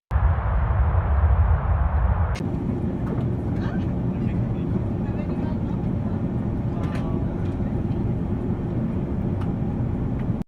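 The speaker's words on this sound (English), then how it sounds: "a Boeing 737 operated by an Icelandic crew touches down on the blue ice runway at Troll Airfield" A Boeing 737 touches down on the blue ice runway at Troll Airfield, a loud, continuous engine and rolling roar that shifts in tone after about two seconds and then holds steady.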